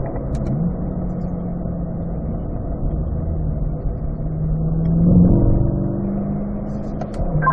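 A car on a racing circuit powers out of a corner, its mid-range engine note holding steady and then swelling as the throttle opens, loud and close with no talk.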